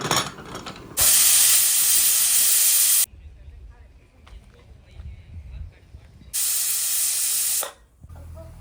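A pressure cooker cooking chicken haleem lets off two loud, sustained bursts of hissing steam, each lasting a couple of seconds, separated by a quieter stretch of low clatter.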